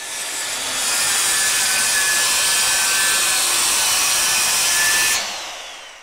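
A table saw rips through a 48-inch sheet of wood guided along the fence, a loud, steady high whine that rises, holds for about four seconds, then winds down.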